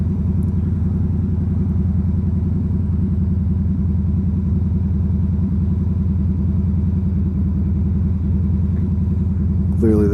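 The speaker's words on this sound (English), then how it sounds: "Man, traffic could be horrible right here." Steady low rumble of a Harley Davidson Heritage Softail engine while riding in road traffic, a loud, constant chugging drone close to the listener with little variation.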